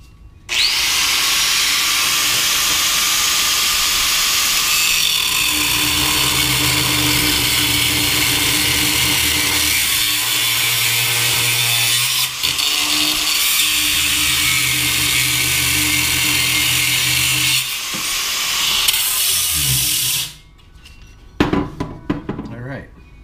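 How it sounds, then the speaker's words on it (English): Cutoff wheel grinding through a metal lug on an LS engine pulley bracket, a loud continuous high-pitched screech lasting about twenty seconds with slight pitch shifts, then stopping abruptly into brief clatter. "I'm gonna go ahead and cut that lug off."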